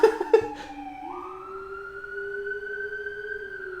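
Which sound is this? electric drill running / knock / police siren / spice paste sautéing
police siren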